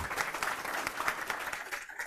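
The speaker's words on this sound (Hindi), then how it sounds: "जिन्होंने पहले स्थान प्राप्त किया है, जोरदार ताली बजा दो" A class at a UP Police mock-test prize ceremony claps for the first-place winner, steady close applause with a dense patter of hands throughout and a slight thinning at the end.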